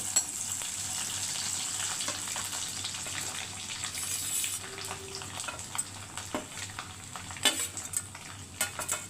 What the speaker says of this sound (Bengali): এবার আমি নারকেল কোড়াটা দিয়ে দিচ্ছি তেলে।